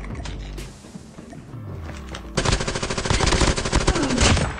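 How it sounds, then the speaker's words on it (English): Weapon magazine change in Call of Duty Mobile: quiet mechanical clicks and clacks of the reload, then a burst of rapid automatic gunfire that grows louder and denser. "Changing mag."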